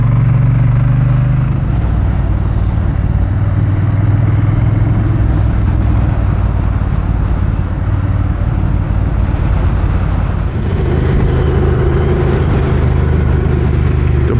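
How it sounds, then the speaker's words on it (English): A Triumph Bonneville T120 motorcycle rides through Malibu, its engine a loud, continuous low growl with a steady rumble and shifting pitch, mixed with heavy wind rush across the microphone. "the bike sounds a lot more growly"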